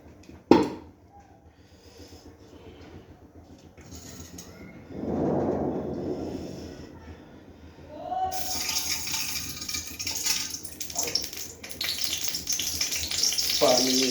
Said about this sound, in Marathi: पाणीमुळे तेल उडायला लागेल.